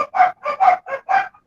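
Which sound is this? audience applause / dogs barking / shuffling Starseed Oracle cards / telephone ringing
dogs barking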